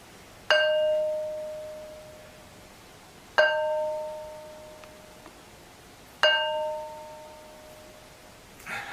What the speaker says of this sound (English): Demonstration how these stones ring like bells